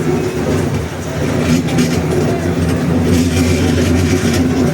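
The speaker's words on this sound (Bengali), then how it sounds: "ট্রেন চলছে।" A train at Bangladesh National Zoo, Mirpur, rumbles steadily along at close range, its wheels clattering rhythmically on the rails throughout.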